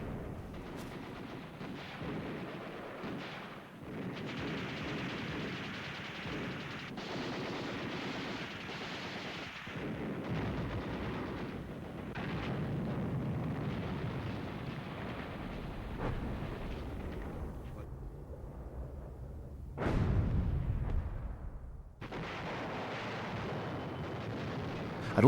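Heavy artillery fire, with deep booming blasts and rumbling explosions mixed with rattling gunfire, loud and continuous like a distant battle, with a sharp blast near the end.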